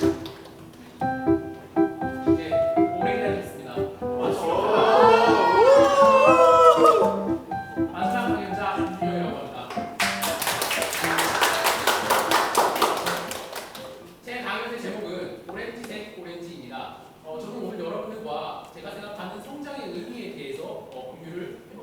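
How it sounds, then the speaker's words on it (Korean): Audience applause at a youth peer lecture event as a speaker is invited onto the stage, a dense burst of clapping lasting a few seconds amid a hall with talk before and after. "큰 박수 부탁드려요."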